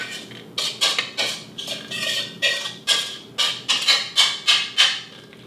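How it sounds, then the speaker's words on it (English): Scoops of seasoned beef mixture scraped from a bowl into a baking dish sprayed with cooking spray for a beef taco bake, about a dozen close, evenly spaced spoon scrapes and clinks with no talking. "And then I'm going to turn the beef mixture into the pan."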